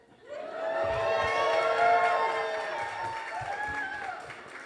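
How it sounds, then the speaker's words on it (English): A masterclass audience cheers and whoops together, a swelling roar of voices with some clapping that peaks midway and then tapers off. "I want you guys to cheer for yourselves for kicking the shit out of Zillow."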